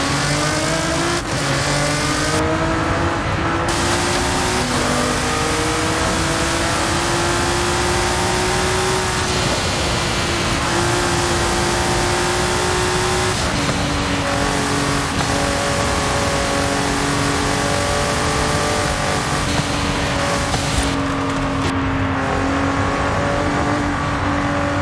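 Nissan GT-R R35 Nismo in Forza Horizon 5, its engine droning steadily and revving up and down in pitch, loud and continuous throughout, with no talk over it.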